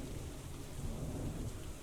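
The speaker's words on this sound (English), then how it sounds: "Against the odds, the rain keeps going for another turn." Rain and rumbling thunder from the war game Hex of Steel form a soft, continuous wash of rainfall with low rolling rumble, faint and steady with no voices.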